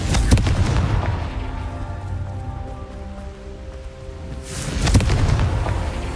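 A Confringo blasting spell bursts in Hogwarts Legacy, a loud booming impact at the start and another heavy blast near the end, with a rumbling tonal hum between them.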